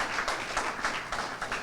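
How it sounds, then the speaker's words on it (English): Audience round of applause at a local community update event, clapping in uneven surges that rise and fall in loudness, fairly close and dense. "So I think they deserve a round of applause."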